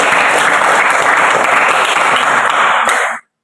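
Applause for student groups in a classroom: a sustained, dense burst of many hands clapping at steady loudness for about three seconds, then cutting off abruptly.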